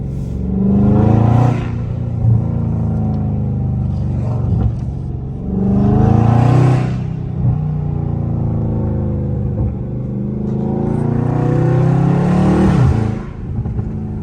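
A loud Scat Pack car driving through a rich neighborhood, its deep engine rumble rising in three strong revving surges, each falling back to a throaty idle-like drone, close and alone with no talk.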